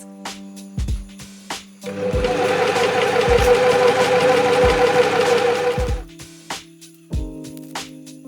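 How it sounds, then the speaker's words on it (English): An overlocker serges a dress neckband in one continuous whirring run of about four seconds, close and fairly loud, framed by quieter clicks and handling sounds before and after. "I've overlocked down the neckband"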